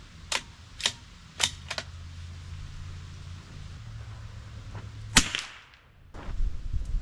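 A Salvage Mark 2 gun fires shots at a target outdoors, with several sharp, close cracks spaced out over the first seconds, then one more later, over a low steady hum.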